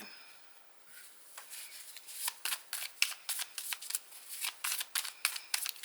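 Tarot cards are shuffled close up in a run of crisp, rapid riffling bursts that come in quick irregular succession after a quiet start.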